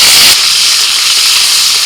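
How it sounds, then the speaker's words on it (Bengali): Green chilies and chopped tomato dropped into hot mustard oil with bay leaf, dried chili and nigella seeds: a loud, steady sizzling hiss throughout, with a brief heavier burst at the start. "ফোড়ন হয়ে গেছে, দিয়ে দিচ্ছি কাঁচা লঙ্কা, টমেটো কুচি"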